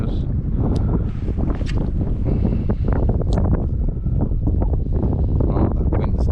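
Steady, loud wind buffets the microphone out on the fishing flats, a continuous roaring rumble with gusty texture and a voice faintly in the mix.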